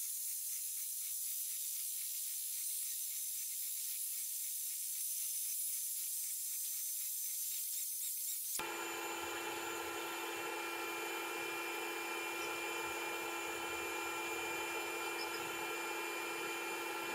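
An iKier K1 Pro Max 70W diode laser engraver burns a coaster: a constant airy hiss throughout, joined partway through by a steady tonal machine hum and whir that holds to the end.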